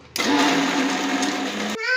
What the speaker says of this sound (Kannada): ಮಿಕ್ಸಿಗೆ ಹೊಡ್ಕೋಬೇಕು.